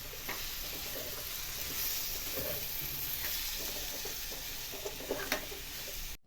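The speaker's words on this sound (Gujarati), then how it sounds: "તો પૌવા એડ કર્યા પછી ધીમે ધીમે હલાવતા રહે" Poha, flattened rice, being stirred slowly in a pan for kanda poha, giving a steady soft sizzle with repeated scraping and rustling strokes throughout.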